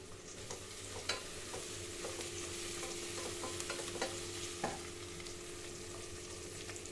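Spices and three sprigs of curry leaves roast lightly in a pan over a low flame for brinjal biryani, giving a soft, steady sizzle broken by occasional scraping stirs, faint and close with no talking.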